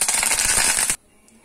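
Mustard seeds and curry leaves hitting hot refined oil, a loud crackling sizzle with sharp pops for about a second, then an abrupt drop to near silence.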